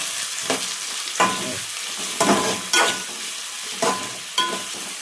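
Leafy greens curry is stirred in a hot pan, with a soft ongoing sizzle broken by about half a dozen rhythmic scraping strokes of a spoon against the pan.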